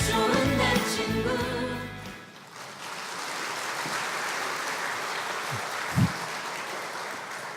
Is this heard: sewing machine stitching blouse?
no